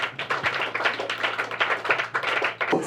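A church congregation claps in acclamation during a Catholic priestly ordination Mass in Kinshasa, a steady stream of many hands beating fast and close together, with a low hum running underneath.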